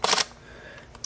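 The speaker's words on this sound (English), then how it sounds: "when you do that, you will hear the two clicks" A Sony NEX-7 shutter with the front curtain shutter turned off fires a sharp, loud double click close up, followed by near silence and a faint tick at the end.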